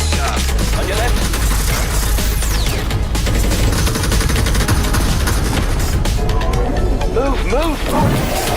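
Dense, continuous gunfire from a VR shooter game fills the scene at a steady loud level, with rapid shots blending into a roar while voices talk over it.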